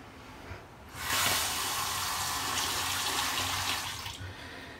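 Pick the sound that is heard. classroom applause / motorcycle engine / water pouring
water pouring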